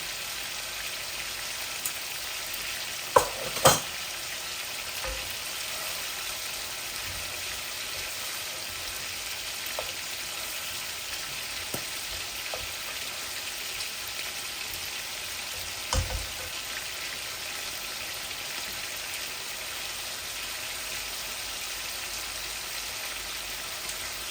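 Continuous sizzling hiss of pangas fish, potatoes and satkora citrus frying in a hot pan with spices, steady and close, with a few faint utensil clinks.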